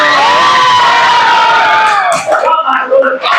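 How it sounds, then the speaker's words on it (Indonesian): A class of students erupts in loud, sustained shouting and cheering, youthful voices whooping together close by and then breaking into scattered calls. "Beri tepuk tangan dulu"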